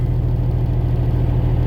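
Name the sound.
truck engine running after being restarted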